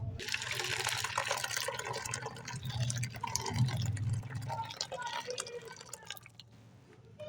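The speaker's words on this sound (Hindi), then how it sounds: "और अब हम इसमें डालते हैं गर्म पानी।" Hot water pours steadily into a bowl of soaked rice and dal for dosa batter, a continuous close splashing and gurgling stream that fades toward the end.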